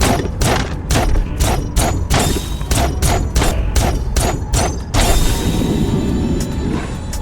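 Rapid bursts of heavy weapon fire and thumping impacts from the video game Sorry We're Closed, a dense sequence of sharp loud shots followed by a bigger sustained blast near the end.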